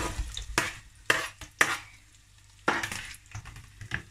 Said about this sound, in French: Maintenant, l'huile rouge a chauffé. On cuit les oignons.